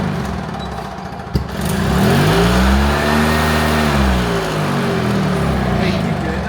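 A golf cart engine revs up as the throttle is pressed harder, a loud rising and falling whine that swells, holds for several seconds and eases off, with people talking nearby.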